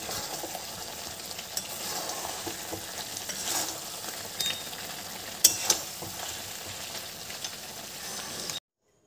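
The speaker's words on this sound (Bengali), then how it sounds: "এবার ভালো করে চিকেনটাকে কষিয়ে নেব।" Chicken with Kashmiri chilli powder being sautéed in a pan for makhani chicken, with a constant sizzle and repeated spatula scrapes and stirs, ending abruptly in silence.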